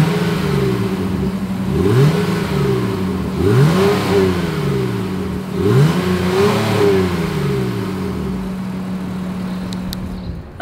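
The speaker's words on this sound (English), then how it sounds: "As always, here is that exhaust clip." Exhaust of a 2021 Honda Pilot revved repeatedly, three rising and falling engine sweeps over a steady idle drone, heard close and alone before settling back down.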